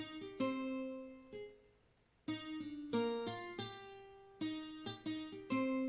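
A sampled tres guitar from Native Instruments Cuba plays short plucked chord stabs in a syncopated pattern, with a brief pause before the figure resumes, clear and alone.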